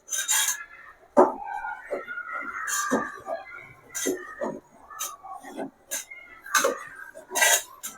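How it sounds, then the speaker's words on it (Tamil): A ladle scrapes and knocks around a pot of sweet pongal cooking with milk and rice on a low flame, in repeated rough strokes with short pauses between, close and fairly loud. "பால் ஊற்றின பிறகு கைவிடாமல் கணலை கம்மியாக வச்சுட்டு அப்படியே கைவிடாமல் கிண்டிக்கிட்டே இருக்கணும்"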